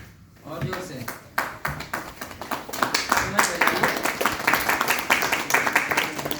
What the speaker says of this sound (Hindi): जोरदार ताली हो जाए जिन्होंने भी इनकम लिया है इस सिस्टम से।